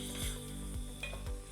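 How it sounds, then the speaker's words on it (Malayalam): A spoon stirs ground and roasted coconut through vegetables in a pan for Kerala koottu curry, with close, rhythmic scraping strokes over a soft sizzle and no talking. "തേങ്ങ അരച്ചതും തേങ്ങ വറുത്തതും എല്ലാം കൂടി ചേർത്ത് നമ്മൾ ഇളക്കുക"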